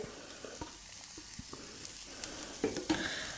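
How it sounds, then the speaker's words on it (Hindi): Grated boiled potatoes fry with spices in a pan, a soft sizzle under scattered stirring scrapes and light taps of a utensil, close and fairly quiet. "अब यहाँ पे जो हमने आलू को ग्रेट करके रखा था वो हम इसके अंदर डाल देंगे।"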